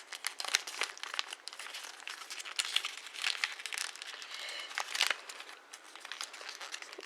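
Origami Transformer being creased and folded by hand, a close, steady run of soft paper crinkling and crunching with brief louder rustles, no talk.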